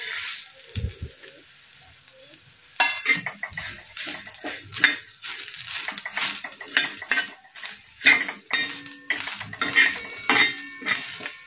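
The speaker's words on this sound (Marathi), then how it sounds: "आपला मसाला भाजून झालेला आहे" Masala for besan vadi curry is roasted in a pan and stirred, with a constant sizzle under repeated metal scrapes and clinks of a spatula, close and moderately loud throughout.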